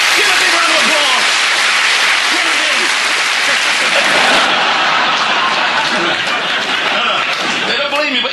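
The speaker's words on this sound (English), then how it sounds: "Give her a big round of applause, ladies and gentlemen." An audience at a magic show bursts into loud, sustained applause mixed with scattered chuckles and laughter, the clapping thinning a little midway but carrying on to the end.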